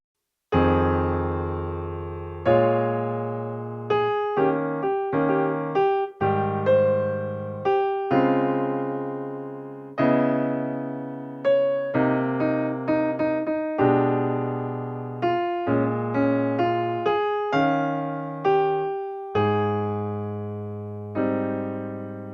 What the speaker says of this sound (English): Here's how the A2 melody sounds in time.